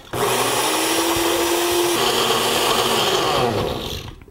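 Blender running steadily as it chops frozen bananas into banana ice cream, a loud continuous motor whine that shifts pitch partway through as the load changes, then cuts off near the end.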